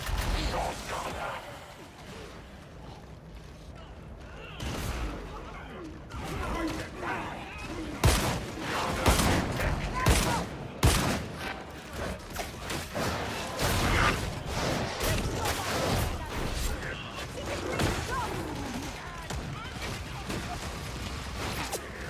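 Gunfire and explosions from the video game Warhammer 40K Darktide come in dense, overlapping bursts with crashes and whooshes, loud and busy throughout as a voice talks over the battle.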